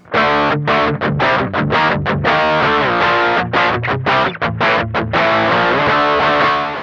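A heavily distorted electric guitar plays loud, aggressive chords and riffs with brief choppy gaps, through a Beetronics Wannabee fuzz pedal on its gritty circuit 1 setting.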